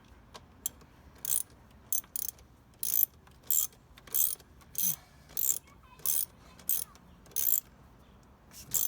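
A ratchet wrench tightens the plastic throttle body bolts on a Chevy Colorado in a cross pattern, giving a close, regular series of short clicking bursts with brief pauses between them.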